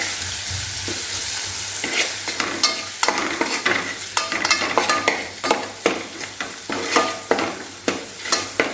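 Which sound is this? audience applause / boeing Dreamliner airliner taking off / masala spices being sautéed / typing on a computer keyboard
masala spices being sautéed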